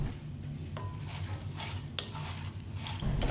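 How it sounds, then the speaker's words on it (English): A spoon works through a thick mixture of potatoes, sour cream and shredded cheddar in a bowl, making soft, steady scraping and squelching sounds with occasional light clinks against the side. "Give this a stir until it's well combined"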